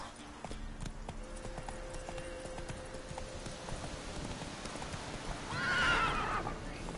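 Roach, the horse in The Witcher 3: Wild Hunt, gallops with steady, continuous hoofbeats, and a loud whinny rises near the end.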